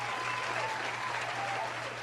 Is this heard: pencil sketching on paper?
no